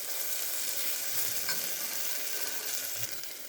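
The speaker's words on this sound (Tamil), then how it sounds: "நல்லா வதக்கி விட்டுக்கலாம்." Food sizzles steadily in a hot pan with a continuous crackling hiss as ginger-garlic paste is sautéed for a wheat rava vegetable biryani, and occasional faint scrapes suggest stirring. No voices.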